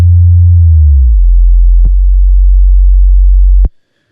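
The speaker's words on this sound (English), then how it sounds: "I'm going to add this sub layer now just with a low sine wave" A low sine-wave sub bass layer synthesized in Ableton holds a deep, steady pure tone that glides down in pitch early on, then sustains loudly with two brief clicks before cutting off abruptly near the end.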